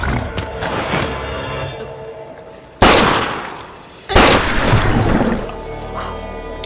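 Two loud gunshots aimed at a crocodile ring out in a Malayalam comedy film, spaced more than a second apart. Each is a sharp, close crack with a long fading tail over a faint background.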